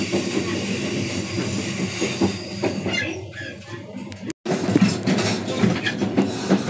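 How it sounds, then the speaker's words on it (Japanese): A train on Japan's Tadami Line rumbles steadily along the Tadami River with a continuous rolling hiss and rattle of wheels on track, briefly cutting out for a moment before resuming. "この只見線はこの只見川に沿って走っていきます。"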